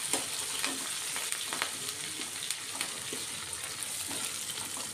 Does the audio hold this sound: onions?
yes